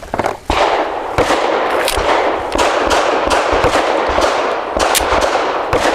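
An FN 509 Midsize pistol fires Hornady Critical Duty 135-grain polymer-tipped rounds, giving loud, sharp, close cracks that come in quick irregular succession with no talking.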